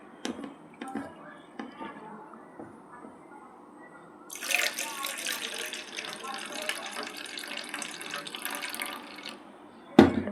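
Tap water runs into a sink while rice is being washed by hand, starting as faint trickles and drips under a woman's speech, then a loud steady gush for several seconds before stopping with a clatter.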